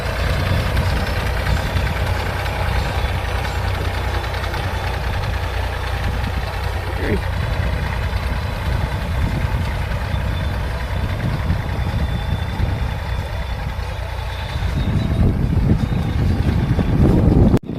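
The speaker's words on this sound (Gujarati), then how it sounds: "આવી રીતના દવાનો છંટકાવ થતો જાય" A tractor sprayer spraying pesticide across a groundnut field, with a steady droning engine and a continuous hiss of spray mixed with wind noise, close and loud throughout.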